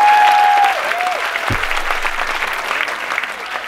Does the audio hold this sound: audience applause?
yes